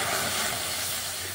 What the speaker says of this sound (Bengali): আমি দুধটা দিয়ে দিচ্ছি কড়াইয়ের মধ্যে।